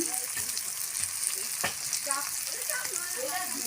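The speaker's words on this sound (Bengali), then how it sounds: "ভালো করে ভেজে নিই।" Green banana frying in a pan with turmeric and salt, a steady close sizzle and crackle with a few stirring scrapes, no talk.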